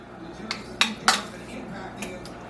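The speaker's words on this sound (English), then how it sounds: "now I'm just going to kind of blob it on top here, dollops and spread" Thick topping being spooned and spread into a baking dish for a tamale pie, with several sharp clinks of utensil against dish, three close together and one later, over a quiet room.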